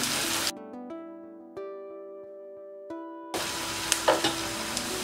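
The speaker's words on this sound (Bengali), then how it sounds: "পেঁয়াজটাকে আমি একটু ব্রাউনিশ করে ভেজে নেব" Onion browning in hot oil with cinnamon sticks, cardamom and cloves for a Bengali chicken curry gives a close, steady sizzle that breaks off for a few seconds of sustained musical tones, then returns with light stirring crackles.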